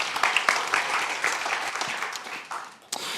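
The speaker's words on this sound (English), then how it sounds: "Can we please get an audience an applause for Tommi?" An audience at an XR industry event claps in a brief round of applause, dense and fairly close, dipping briefly before a last burst.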